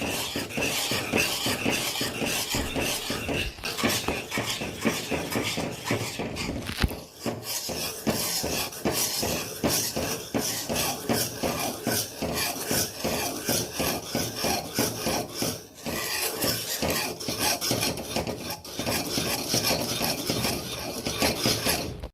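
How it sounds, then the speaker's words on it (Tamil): A whisk works through thick fenugreek kali batter in a pot, producing a continuous close scraping and rubbing that runs without a break, with only a couple of short pauses. "விஸ்கு வச்சு கூட நீங்கள் நல்லா கலந்து விட்டுக்கோங்க"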